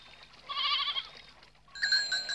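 Two short, nasal goat bleats close by, one after the other with a brief pause between, in a quiet setting.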